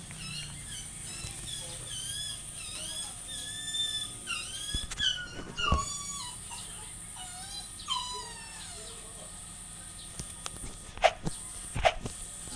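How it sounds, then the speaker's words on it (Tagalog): A household dog yelps and whines in high, squealing bursts over a steady background hum, with a few sharp knocks and scuffs near the end. "maingay lang kasi yung aso namin eh."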